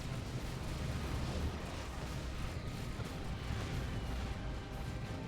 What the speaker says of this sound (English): There's the Rocket Barrage hitting the Blood Barrage pretty good.